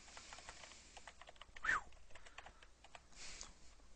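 Quiet typing on a computer keyboard while entering text in a website editor, with light scattered key clicks, one louder tap and a short burst of keystrokes near the end.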